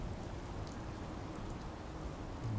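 Heavy rain falls at night in a steady, dense hiss with no pauses, continuous and fairly close, no voices over it.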